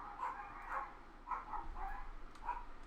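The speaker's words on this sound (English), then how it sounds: "Pack of rabid dogs just runs down the street." A pack of dogs barks in a series of rough, somewhat distant yaps spaced through the moment, set against a low background rumble.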